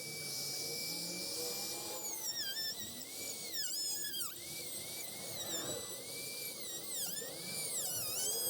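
A high-pitched power tool grinds plastic bottle-cap orthotics, its whine repeatedly dipping and recovering under load over a steady background hiss.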